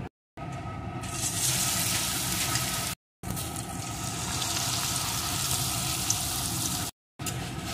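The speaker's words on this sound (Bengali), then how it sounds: "অল্প আছে চিকেনগুলো আমি লাল লাল করে ভেজে নেব।" Marinated chicken frying in very hot oil in a wok, a loud continuous hiss and crackle heard close up, broken by two short moments of silence.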